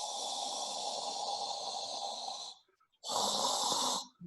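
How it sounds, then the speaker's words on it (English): Forceful exhalations through the mouth during a Tibetan breathing exercise: two loud, breathy rushes of air, the first lasting about two and a half seconds, then a short pause and a second, shorter blast, with no speech. "and then exhale from mouth."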